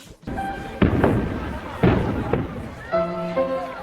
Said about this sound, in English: Look at the fireworks reflecting in her eyes.